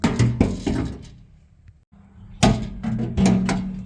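A poorly sealing door on a 1984-88 Toyota pickup truck shuts twice, two heavy, close metallic thunks with a quiet gap between them.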